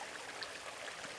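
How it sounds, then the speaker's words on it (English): A three-tier garden waterfall beside a koi pond gives a steady, soft rush of falling water, constant and even throughout with no voices. "we hear, you know, there's like a three-tier waterfall up in that area"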